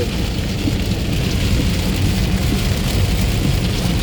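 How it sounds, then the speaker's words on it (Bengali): Heavy rain pours onto a road at night in a steady, loud, unbroken wash with a deep rumbling low end, no voices over it. "রাস্তায় বৃষ্টি হচ্ছে"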